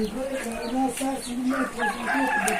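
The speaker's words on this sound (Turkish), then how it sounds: "Sabah saatleri olduğu için bayağı horoz ötüyor." A rooster crows in a village in the morning amid other clucking fowl, with overlapping calls from several birds close by; no talking.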